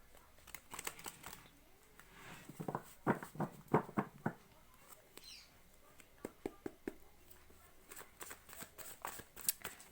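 Playing cards being shuffled by hand, with repeated quick riffles and snaps in short bursts, quiet and close, separated by pauses.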